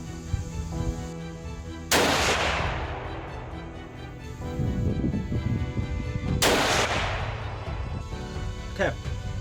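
Rifle shots while testing a Sightmark Latitude 8-32x60 scope, two loud close cracks several seconds apart, each followed by a rolling outdoor echo, with a voice talking in between.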